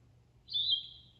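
A single brief, high, slightly hoarse call from a yellow-throated vireo, clear and close, rising out of a faint low background hum with no voices.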